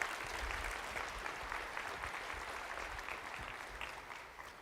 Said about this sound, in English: Thank you for that smattering of applause